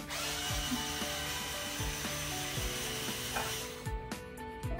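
A power tool whirs steadily and close as it backs screws out of wall anchors in an old rooftop room being restored, a continuous buzzing grind with a few brief stops near the end.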